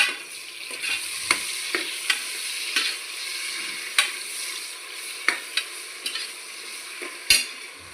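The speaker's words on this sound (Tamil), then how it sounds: "தக்காளி போட்டிருக்கேன், வதங்கிக்கிட்டு இருக்கு." Chopped tomatoes sizzle softly in a pan while a spoon scrapes and clacks against it in irregular stirring strokes, with no talking.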